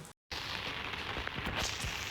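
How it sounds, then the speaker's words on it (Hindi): Heavy rain that has been falling since morning pours down as a dense, steady hiss, broken only by a very brief dropout near the start. "बहुत ज़्यादा ही बारिश हो रही है सुबह से, और रुकने का नाम नहीं है"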